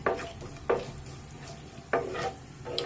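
Mustard seeds and cumin crackle and sizzle in hot oil during tempering for pudina rice. A soft continuous sizzle carries scattered sharp pops at close range, with no talking.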